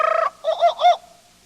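A short burst of shrill, harmonic jungle bird calls followed by two rising-falling whoops, loud and close, with no voices, used as a page-turn signal on a read-along cassette.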